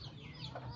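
A hen clucks softly close by among chicks, a brief, low steady vocalization filling the short moment with no talk.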